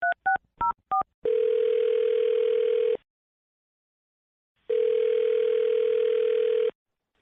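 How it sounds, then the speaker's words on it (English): Four quick touch-tone dialing beeps, then a long ringback tone, a pause, and a second long ring on the phone line, clear and without talk. "I'm going to dial her phone number right now"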